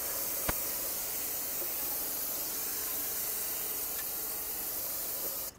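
Brake parts cleaner sprays onto a rotor hub during steering knuckle work on a 2005-2010 Chrysler 300, a close, continuous hiss lasting about five seconds before it cuts off abruptly.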